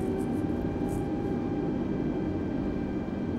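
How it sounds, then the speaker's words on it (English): Airbus A320 jet engines in Microsoft Flight Simulator spooling up for taxi, a steady broadband roar with faint whining tones, constant and moderately loud, without voices. "we just need a little bit of thrust to get the aircraft moving"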